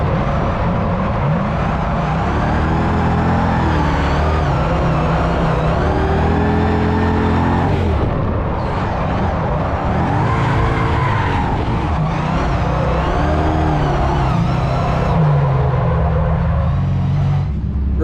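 A drift car at a Lone Star Drift event revs hard and skids, engine screaming and bouncing off the limiter while tires squeal continuously, loud and close throughout.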